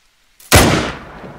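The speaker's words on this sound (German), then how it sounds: "Schlechter Schuss." A rifle shot in the hunting game theHunter: Call of the Wild, one sharp loud blast with a long rolling echo fading over the next second.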